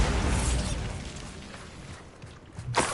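A Bombarda exploding spell blast in the Hogwarts Legacy video game: a loud rumbling boom that decays with scattered crackle, followed near the end by a sharp second impact.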